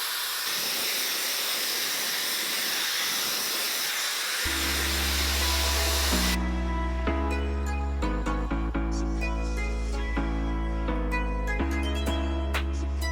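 A Dyson Airwrap pre-styler blowing hair dry gives a steady, loud rushing hiss of air that runs alone for a few seconds before music comes in and covers most of it.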